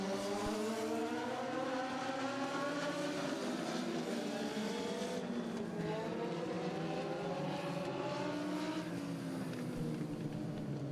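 Race cars in a dirt-track style heat race roar past continuously, several engines overlapping with rising and falling pitch as they sweep by, loud and sustained throughout with no voices.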